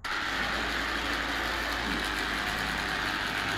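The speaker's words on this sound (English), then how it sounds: "So we got a grinder and polishing attachments" A grinder fitted with a polishing attachment runs on a car's bodywork, giving a loud, steady motor whine with a constant low hum that starts abruptly and holds level with no talking.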